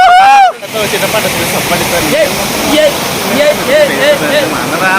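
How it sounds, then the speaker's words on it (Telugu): A waterfall in Araku Valley roars as a steady, close rush of water, with people talking over it throughout. "మొత్తానికి నానా శంకల్ నాగి జలపాతానికి చేరుకున్నాం."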